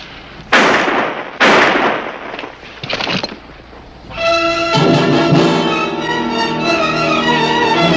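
Two loud, sharp gunshots ring out in a western TV drama, spaced about a second apart, then a fainter crack, before dramatic orchestral music swells in.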